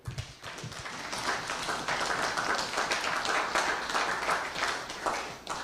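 Applause for representatives at a live-streamed event in Suriname, a steady patter of many clapping hands filling the room at moderate loudness, with a faint voice briefly at the start.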